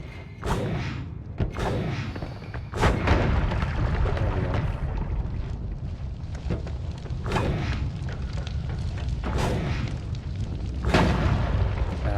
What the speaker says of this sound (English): I did mean to explode those